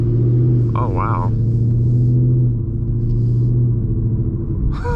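A 2020 Mustang GT V8 running a Lund 91 octane tune rumbles steadily while driving, a loud continuous low drone with a brief rise in revs, and a person speaks briefly over it.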